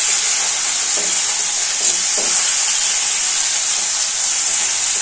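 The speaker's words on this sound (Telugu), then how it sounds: "2 నిమిషాలకు ఒకసారి ఇట్లా కలుపుతుందండి. పైన కిందికి పైకి చేస్తూ ఉండాలి." Eggplant curry fries in oil in a pan with a steady, bright sizzle throughout, broken by a few soft scraping stirs of the spoon near the start.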